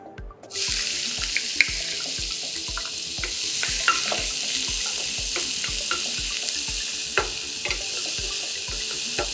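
Onion frying in hot oil with cumin in a pan, producing a steady loud sizzle right after it drops in, with small stirring clicks over the continuous crackle and no voices.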